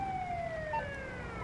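A wailing ambulance siren in a Grand Theft Auto game rises and falls faintly in the distance over low engine rumble, with a steady electronic tone running beneath it.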